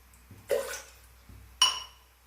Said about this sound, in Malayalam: ഇതിലേക്ക് ഒരു ഗ്ലാസ് വെള്ളം ഒഴിച്ചു കൊടുക്കാം